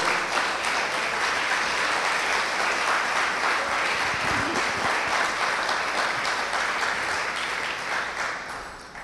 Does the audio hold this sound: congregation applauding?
yes